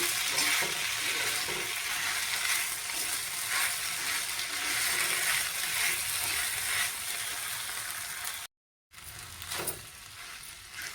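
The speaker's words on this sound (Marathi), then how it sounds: "व्यवस्थित परतून घेऊया" Sabudana khichdi being sautéed with a pinch of salt in a pan gives a steady, close sizzle and stir scrape with no pause, broken by a brief dropout near the end before the frying resumes.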